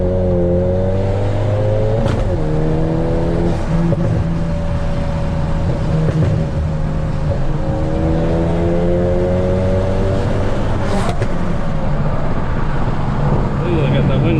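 A Hyundai Veloster N tuned to 299 whp, running with traction control off, accelerates hard from inside the cabin, its loud engine climbing through the revs with brief dips at shifts and wind noise around it.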